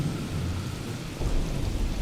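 A thunderstorm sound effect of rolling thunder over steady heavy rain, a low rumble that swells louder after about a second and continues without any voices.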